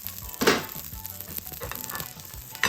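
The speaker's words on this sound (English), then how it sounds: "Now I am cooking for 3 minutes on medium low heat" Food frying in a pan over medium-low heat, a steady soft sizzle with a louder crackling burst near the start and faint clinks of utensils.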